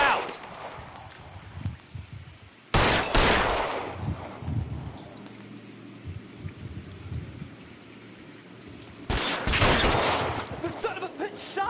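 Gunfire in an L.A. Noire shootout sounds out as two loud, harsh bursts of shots that cut through a steady, noisy background.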